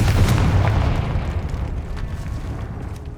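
A loud, close Confringo spell explosion in the Hogwarts Legacy video game: a deep booming blast at the start that rumbles and slowly fades over a few seconds.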